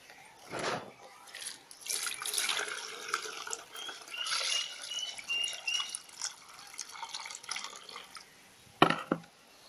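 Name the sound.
soaked mixture being strained through a filter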